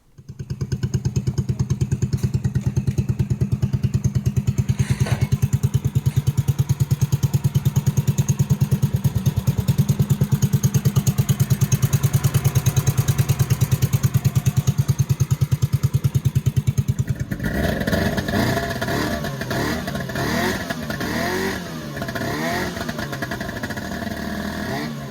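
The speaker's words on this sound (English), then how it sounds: "I know I had a lot of fun riding that snowmobile" A Ski-Doo Tin Cab snowmobile engine runs loud and close for about seventeen seconds with a steady buzzing drone, riding through an apple orchard, then cuts to a quieter, more varied stretch.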